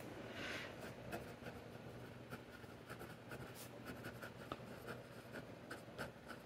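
A broad-nib fountain pen scratches steadily across paper in soft, continuous writing strokes. Faint, rapid ticks run throughout, with no voices.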